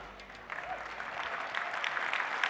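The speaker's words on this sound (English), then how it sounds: "It was amazing to hear the applause for the DAX schema browser." Sustained audience applause at a software company's 2021 summit keynote, a steady dense wash of clapping from a large crowd filling the room throughout.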